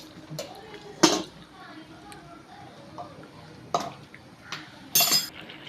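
A pot of spinach cooking for a Kerala-style dal and palak curry is covered with a lid, producing a few sharp metallic clinks and clatters spaced over quiet kitchen background.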